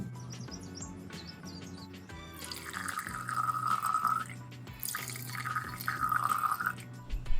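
Pinot wine pours into glasses in two separate streams, each a bright gurgling fill with rising pitch, close and distinct, with soft clinks and handling in between and no talk.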